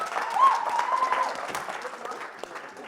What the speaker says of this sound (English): One bigger round of applause